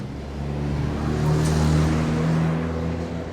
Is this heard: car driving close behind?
yes